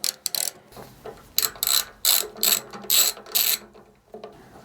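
A ratchet undoes 10mm tank bolts on a Suzuki DL800 V-Strom, a run of loud, close bursts of quick metallic clicking in a steady back-and-forth rhythm, then a brief pause.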